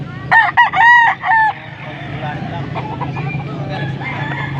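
A young bulik gamecock stag crows once, loud and close, in a short broken call, followed by a low steady background murmur.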